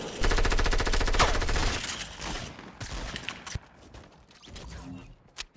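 Automatic gunfire from a console shooter game rattles loud and continuous for about two seconds, then breaks into scattered shorter bursts and single shots that thin out toward the end.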